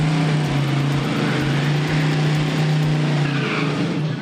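A '72 Chevy Nova hot rod on a test pass, its engine roaring loud and steady with a strong low drone throughout, no voices over it.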